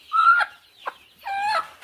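A grown village-breed hen clucks close by in a few short, nasal bursts separated by brief pauses, with a faint rustle between them, while being given eye-drop Gumboro vaccine.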